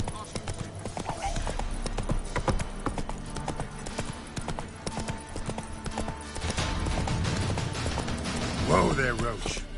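In The Witcher 3 on PS5, the horse Roach's hooves clip-clop in a steady rhythmic gait, fairly close, under ongoing character dialogue and faint ambient game sound.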